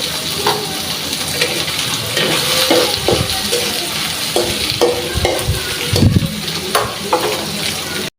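Dried fish frying in a pan at home, with a steady close sizzle throughout and intermittent stirring clatter and scrapes, no voices.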